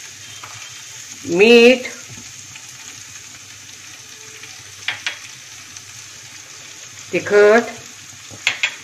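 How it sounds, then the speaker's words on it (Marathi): Cluster beans being stirred with crushed peanuts in a pan: a faint background sizzle broken by two louder scraping bursts of stirring and a few small clinks, with brief speech between them. "यामध्ये आता आपण शेंगदाण्याचं कूट असं मिक्स करत राहायचं।"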